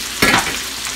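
Food being returned to a hot pan sets off a sudden loud sizzle that continues as a steady frying hiss.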